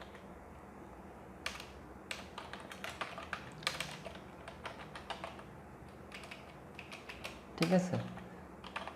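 Fingers typing a name on a computer keyboard, quiet irregular bursts of key taps, with a short spoken word and a louder clack near the end.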